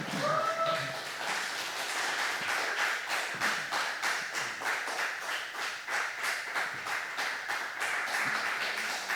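Church congregation applauding during a Korean revival service, a steady run of dense hand claps with a rhythmic, beat-like pattern over the whole span, with a brief tonal sound near the start.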